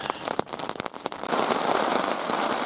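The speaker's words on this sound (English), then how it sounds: "Big drops sticking up on the tarp right now" Heavy raindrops strike a tarp, starting as scattered sharp patters and building into a dense, continuous drumming roar that stays loud and close.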